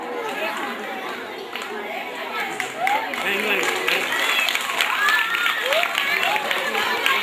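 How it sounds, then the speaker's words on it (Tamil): The audience at a school sports day prize giving applauds, a steady wash of clapping mixed with crowd chatter and voices that grows slightly louder partway through. "அனைவரும் கரகோஷம் எழுப்புங்கள்"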